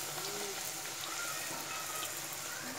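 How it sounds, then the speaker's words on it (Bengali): Battered eggplant slices frying in hot oil, a steady close sizzle with faint crackles and a few soft background tones, with no talking over it. "এরকম করে সবগুলো ভেজে নেব"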